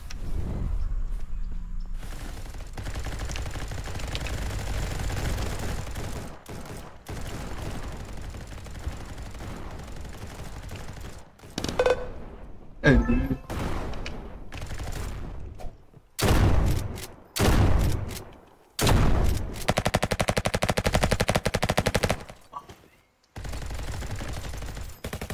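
Gunfire in a Roblox shooting game, RF Legacy: rapid automatic bursts and scattered shots, loud and close, broken by short silences and sharp isolated bangs toward the end.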